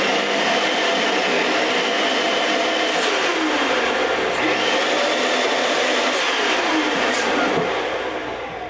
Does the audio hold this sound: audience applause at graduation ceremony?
no